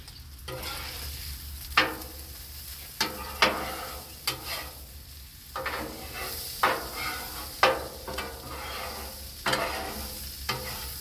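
Salmon sizzles steadily on a hot Blackstone griddle, with a constant crackling hiss broken by sharp spatula scrapes and taps every second or so, all close and loud.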